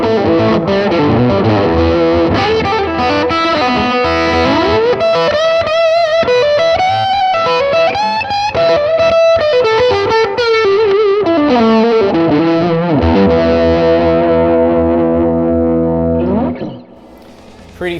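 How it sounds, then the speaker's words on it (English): Overdriven electric guitar on the bridge pickup through a Tumnus overdrive pedal plays a bright, biting riff with chords and single-note runs, loud and up front, with a faint trace of echo, then stops. "let's hear the bridge pickup with the Tumnus"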